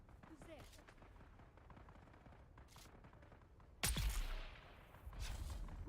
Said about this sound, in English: Always a great sound when you're approaching an area and you already hear gunfire.